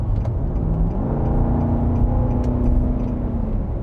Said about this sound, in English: I really do love the sound of that V8